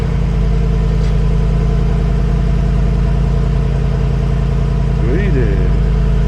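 A Mercedes-Benz car engine idles just after starting, holding a loud, steady low hum from start to finish, with a short voice-like sound near the end.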